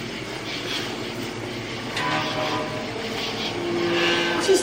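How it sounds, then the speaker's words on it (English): Outdoor plane passing overhead near Sleepy Hollow, a faint broad roar that swells slightly toward the end, distant and steady under room quiet. "it might be a plane outside"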